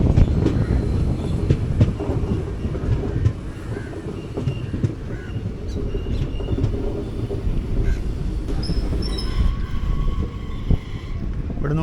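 Sleeper-class coach of the 16343 Amritha Express running toward Dindigul station, with a steady loud rumble of wheels and rail, faint rhythmic clatter and wind, continuous throughout with no talking.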